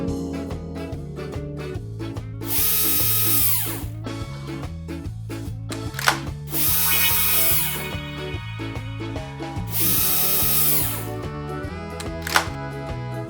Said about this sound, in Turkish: Burada bir matkap var.